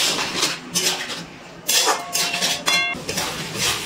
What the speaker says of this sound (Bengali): গ্যাসের ফ্লেমটা লোতে রেখে 2 থেকে 3 মিনিট মতো একটুখানি নাড়াচাড়া করে নেব